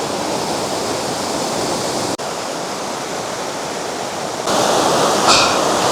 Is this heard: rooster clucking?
no